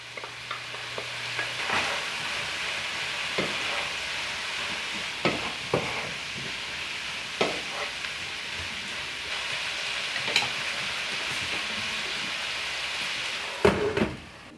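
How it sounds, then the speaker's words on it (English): Green beans sauté with bacon bits in a hot pan, a steady close sizzle punctuated by occasional clinks and scrapes of stirring, with no talk. "I really like it when they get sauteed on the bottom like this and they pick up some of those bacon bits that are in the pan."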